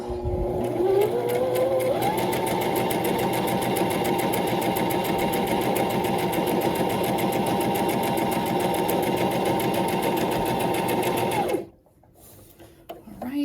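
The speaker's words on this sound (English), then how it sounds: "So just put your foot on that foot pedal and let's sew." A domestic sewing machine runs a zigzag stitch in one loud, steady, rapid mechanical whir for about eleven seconds, then stops abruptly, leaving near silence.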